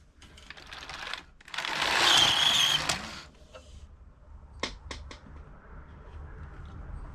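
A Passap E6000 knitting machine carriage runs across a row of a heel flap sock, a loud whooshing sweep lasting about a second, followed by several sharp clicks and clacks of the mechanism.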